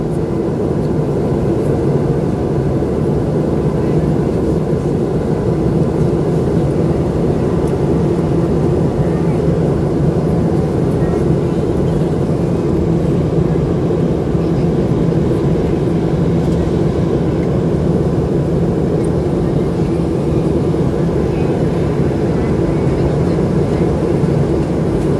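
An airliner taxis to the gate after landing on an Atlanta to West Palm Beach flight, filling the cabin with a loud, steady low rumble and engine roar, while an announcement voice speaks over it.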